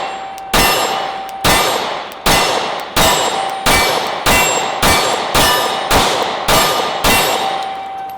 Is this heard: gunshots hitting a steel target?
yes